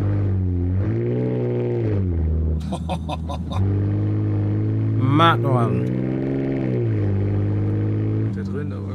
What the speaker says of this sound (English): Der lautste Truck, den wir bis jetzt gehört haben.